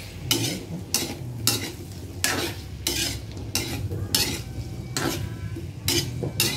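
Potatoes and carrots stirred into native pork kaldereta in a pot, a spoon scraping in a steady rhythm of about eight strokes over a soft sizzle, close and moderately loud with no talking.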